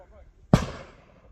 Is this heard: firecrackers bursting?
yes